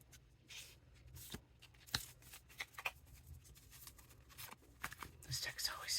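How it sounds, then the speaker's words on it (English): A tarot card deck being shuffled by hand, a stiff deck giving repeated papery riffles and soft flicks, close and fairly quiet throughout. "This deck's always so hard to shuffle."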